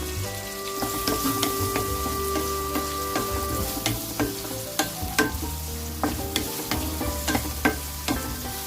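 Two large sliced onions and four green chillies fry in hot oil, a continuous crackling sizzle broken by scattered sharp stirring clicks, close and alone.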